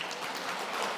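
Applause from an audience at a Catholic special lecture at a shrine in Jeonju, a short, steady burst of clapping that fills the room for about a second with no talking.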